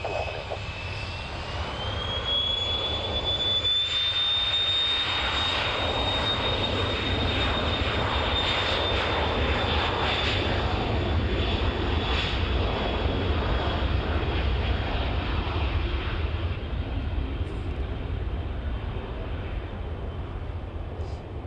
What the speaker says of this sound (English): the Cessna was taking off